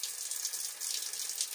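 Water runs from an open tap in a homemade shower cabin, a thin, steady hiss of flow that stays faint and even throughout.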